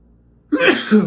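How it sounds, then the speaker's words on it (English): A single sharp sneeze bursts out after a moment of near silence, close and loud, trailing into a brief breathy tail. "I'm sneezing again. Excuse me."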